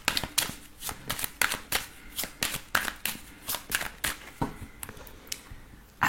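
Oracle cards being shuffled by hand during a tarot-style reading, giving a steady run of crisp riffling flutters and soft slaps, close and clear with no talking.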